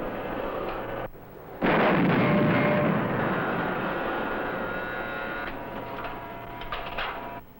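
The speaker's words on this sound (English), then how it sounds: "Fire 1 round only." A naval gun turret fires a single round aboard a ship on a summer training cruise: one sharp, loud blast followed by a long rumbling decay and lingering ship hum.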